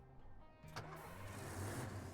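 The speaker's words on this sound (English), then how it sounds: "Because you've got to turn the engine on." A crane truck engine starting in the video game Roadcraft, a brief crank about three quarters of a second in that catches into a steady, building mid-pitched engine rumble, heard alone.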